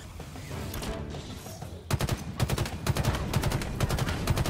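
Rapid automatic gunfire from Halo Infinite multiplayer: a sustained stream of sharp, evenly spaced shots, steady at first, then a denser and louder run of bursts.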